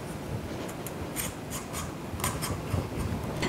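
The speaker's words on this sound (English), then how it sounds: "I'm just using my vegetable peeler." Vegetable peeler scraping the skin off a butternut squash, a steady series of close dry rasping strokes in a quiet kitchen.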